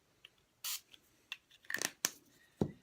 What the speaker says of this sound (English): So I'm just going to spray it down lightly like so